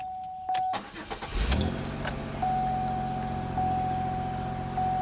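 A Grand Am GT engine cranks briefly, catches with a loud burst, then settles into a steady idle, with a thin high whine running through most of it.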